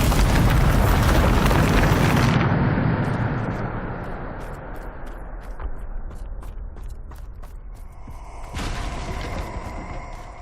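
Bombarda spell blast in Hogwarts Legacy: a loud, roaring explosion that fades slowly over several seconds into rumbling debris, followed by a second, smaller burst near the end.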